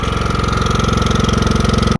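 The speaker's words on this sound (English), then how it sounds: "I've got my generator running." A small portable generator chugs close by at a Lake Norman State Park campground, a loud steady pulsing engine throb with a constant whine, cutting off abruptly at the end.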